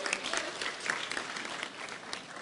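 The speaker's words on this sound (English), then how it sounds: "you can applaud" Audience applause at a Los Angeles County Board of Supervisors meeting, an even stretch of clapping from a modest crowd filling the whole clip with no speech over it.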